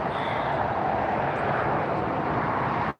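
A British Airways Boeing 777 jet at LAX airport rolls near the end of the taxiway, a steady, loud broadband roar that holds for about three seconds before cutting off abruptly.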